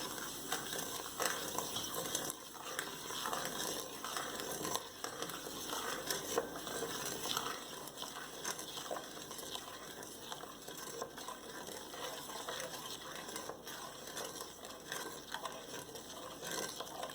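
Brown sugar being stirred into a Jamaican spice bun mixture in a bowl, faint soft scraping and gritty rustling strokes repeating irregularly, quiet and close with no talking.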